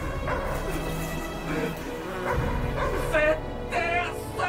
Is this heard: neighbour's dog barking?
yes